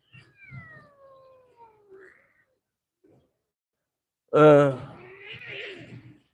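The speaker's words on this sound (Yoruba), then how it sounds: "ológbò mọ́kànlá lẹ̀ ń wò yẹn" Eleven cats meow from inside a sack, with soft drawn-out cries early on and then one loud, close, strained wail followed by quieter mewing.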